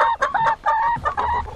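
Backyard hens in a snowy Central Oregon yard cluck close and loud in quick, overlapping bursts, with no one speaking.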